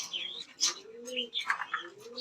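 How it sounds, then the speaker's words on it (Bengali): A pair of white racer pigeons calls in a farm loft, with repeated rising and falling coos alongside sharper chirps in uneven bursts, close and moderately loud. "এখানে আমরা খুবই সুন্দর আমার খুব পছন্দের একজোড়া সাদা কালারের রেসার কবুতর দেখতে পাচ্ছি"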